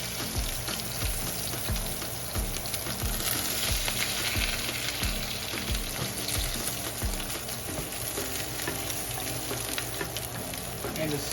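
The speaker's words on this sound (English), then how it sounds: "We get a nice sizzle going on here." Steak sears in a cast iron skillet on a stovetop burner, giving a steady, loud crackling sizzle with dense spattering pops throughout, close up and with no one talking.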